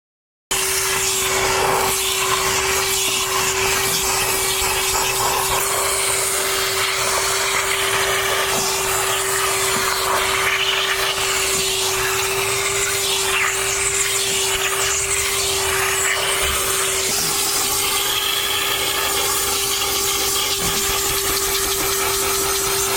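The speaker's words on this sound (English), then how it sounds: "it's definitely not the strongest vacuum you'll find" A Metro Vac 'N' Blo wet vacuum cleaning a car interior runs continuously with a steady motor whine and airy rush, loud and close, with slight changes as the nozzle moves and no talk.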